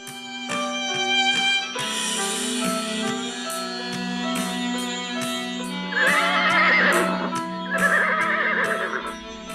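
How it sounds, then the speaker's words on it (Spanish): Two black horses neigh and snort impatiently before a doorway in a radio drama effect, with whinnies rising over a continuous orchestral music bed. "Ante la puerta resoplaban impacientes 2 caballos negros como la noche"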